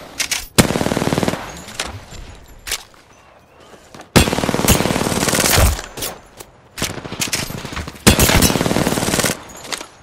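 Automatic gunfire in Apex Legends comes in three long, loud bursts of rapid shots, close and sharp, with short quieter gaps between them.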